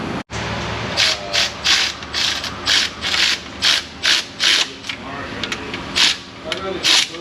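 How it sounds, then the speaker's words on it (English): Quarter-inch drive ratchet tightening bolts in an auto repair shop: about a dozen quick bursts of rapid clicking come in a steady rhythm, close and clear, after one sharp knock at the start. "I'm going to tighten these with my quarter drive first, just like the adapter."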